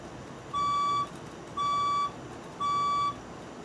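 A fire alarm test tone sounds as three evenly spaced, loud electronic beeps, each about half a second long, over a faint hum with no talking.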